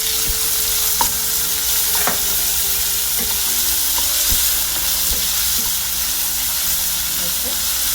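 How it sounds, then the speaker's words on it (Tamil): Chopped onions sizzle loudly in hot oil in a pan with mustard seeds and chana dal, a steady dense frying hiss with occasional crackles and spatula clinks, no speech. "பொடியாக நறுக்கி வச்சோம்னா வெங்காயம் அதில் போட்டுக்கலாம்"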